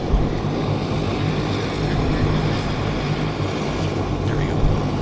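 A Westjet airliner departing Vancouver Airport: a steady, broad jet engine roar holds at constant loudness throughout, fairly close, with faint voices in the background.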